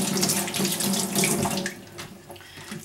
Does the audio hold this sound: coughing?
no